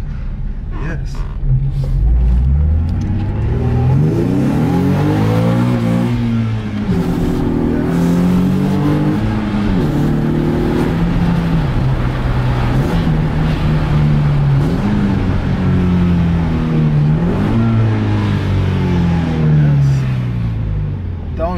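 A Nissan 370Z engine with a failing clutch slave cylinder revs up and down repeatedly, loud and close, with rising and falling pitch sweeps as gears shift; a voice talks over it.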